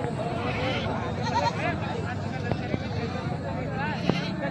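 Goats bleat amid a busy goat market, with several wavering calls rising over a steady crowd murmur and people talking nearby.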